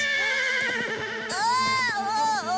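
A cartoon horse in a Fireman Sam episode about a runaway horse lets out a loud, close whinny with rising and falling pitch, lasting about a second over a continuous cartoon soundtrack.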